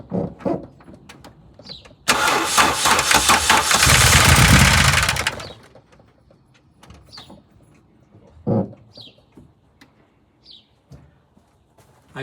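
1977 mk1 Vauxhall Cavalier with a C20XE engine cranks and catches, a loud burst of about three seconds that then dies away, followed by quiet clunks and short bursts of nearby sound.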